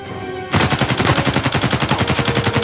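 Sustained automatic gunfire in Uncharted: Legacy of Thieves, a loud, close, steady stream of rapid shots that bursts in suddenly after a brief quiet moment and continues without pause.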